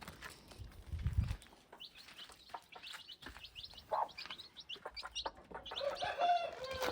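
Chickens and a rooster cluck and chirp steadily at a moderate distance, with scattered high chick peeps and a few louder calls over low rustling background noise.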